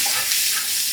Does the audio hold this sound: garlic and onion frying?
yes